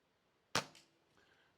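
A single sharp air rifle shot firing a BSA Silver Star pellet, loud and close, followed by a brief softer crack of the pellet striking the target, then quiet.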